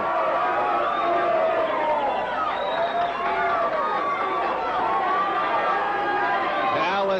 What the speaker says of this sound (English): Palestina exhorting the crowd, Tina being cheered on.